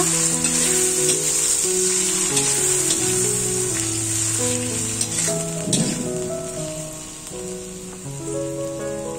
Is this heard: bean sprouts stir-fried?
yes